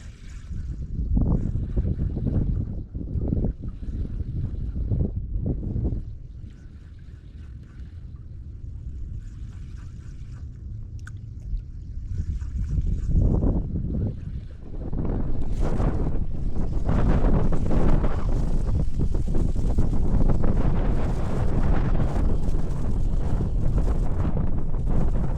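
Strong gusty wind batters the microphone in heavy rumbling blasts while inshore fishing by lagoons, easing briefly midway before building into a sustained loud roar.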